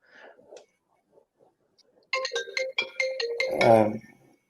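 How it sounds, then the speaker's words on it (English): A mobile phone rings during an online company quarterly update call, a bright electronic melody of rapid tone bursts starting after a brief pause and ending in a louder smeared swell. "I left my phone on in case I had to dial in by phone, but someone keeps ringing me."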